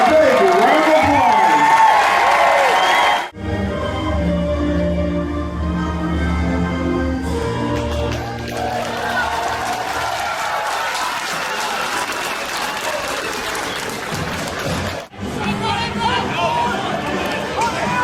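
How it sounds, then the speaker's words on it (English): A crowd at a Jamestown Tarp Skunks baseball game applauds and cheers loudly for a man delivering the rider card. The applause carries on for several seconds with crowd chatter, a voice over the ballpark speakers and a couple of brief drops. "Please give him a big round of applause."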